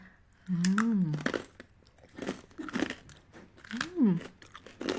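Crunchy bites of sharp cheese being chewed up close, with a few crisp crunches and a humming, murmured voice over the chewing.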